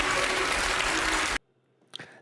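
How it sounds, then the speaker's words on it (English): An audience at a debate on British culture and terrorism breaks into a dense roar of clapping and booing that cuts off abruptly, followed by near silence and a brief faint sound. "you'll hear the boos in the audience. There was some clapping, but there was some booing."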